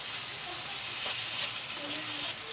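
Ground pepper stir-fried and mixed in a pan with oil for broccoli in garlic oyster sauce, giving a steady, fairly quiet sizzle with faint stirring scrapes throughout, no talking.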